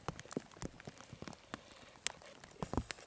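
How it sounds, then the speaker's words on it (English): Rain falls on an outdoor campfire site, with scattered drops pattering and ticking at uneven intervals, some sharper taps standing out against a soft, steady background. "Now it's coming down a bit more of the rain."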